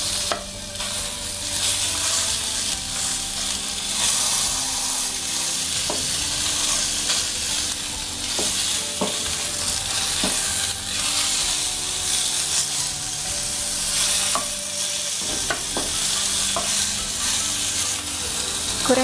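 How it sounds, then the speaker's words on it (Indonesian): Fish frying in hot oil in a home kitchen pan gives a steady, loud sizzle and crackle, with occasional clinks and stirring scrapes throughout and no voices. "Goreng ikan sampai kurang lebih ke kuning-kuningan ya."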